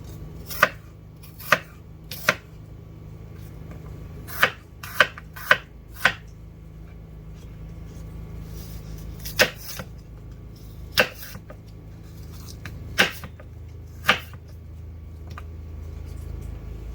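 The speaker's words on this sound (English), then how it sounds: "we're just going to chop them up into, little bite-sized pieces" Knife chopping sliced apples into bite-sized pieces on a cutting board, a dozen sharp, irregular close knocks spread over quiet room tone, no talking.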